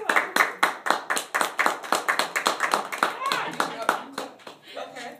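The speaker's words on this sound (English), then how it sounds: "So let's give her a hand to welcome." A live audience claps steadily to welcome a speaker, sharp overlapping hand claps filling the room at close range, with a little background voice mixed in.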